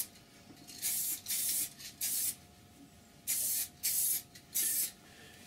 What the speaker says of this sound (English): just holding it about 12 inch away, just dust your sealer on